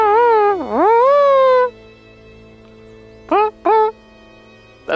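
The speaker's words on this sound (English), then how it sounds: "That's what a loon sounds like." A loon gives a wavering, tonal wail that dips and then rises into a long sustained note. Two brief, clipped hoots follow after a pause, all loud and close, with no talking over them.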